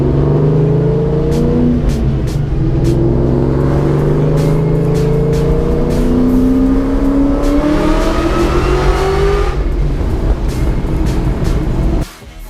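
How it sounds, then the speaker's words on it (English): A 2003 Ford Mustang Cobra pulls hard from second into third gear, its engine note climbing steadily, dropping briefly at the shift and rising again, loud and close, before cutting off abruptly at the end. "So we'll do like a second to third gear pull."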